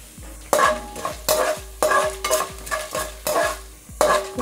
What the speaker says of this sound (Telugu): శనగపప్పు, మినప్పప్పు వేసుకొని కొంచెం దోరగా వేయించుకున్నామండి